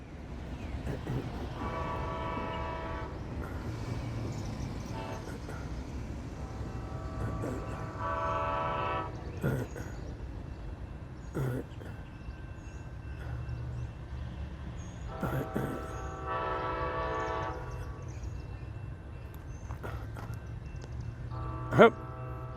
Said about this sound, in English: I'm here for the auto train